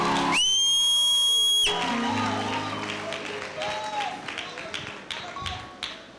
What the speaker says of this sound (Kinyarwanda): Kubera iyo mpamvu mukomera Imana amashyi.